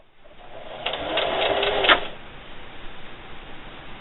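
A sewing machine runs a short burst of reverse stitches while sewing a can koozie, a close, steady mechanical whir with rapid needle clatter that lasts about a second before stopping.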